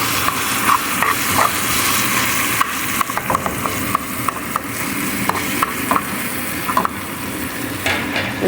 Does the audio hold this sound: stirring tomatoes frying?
yes